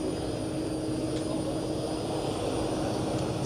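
A camera drone flying outdoors at a car show, giving a steady, unbroken high whine over a constant broadband hum.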